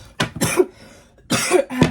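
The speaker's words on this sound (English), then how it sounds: "Guys, I'm so sorry for coughing." Two bursts of close, harsh coughing, each a pair of quick raspy coughs separated by a short pause.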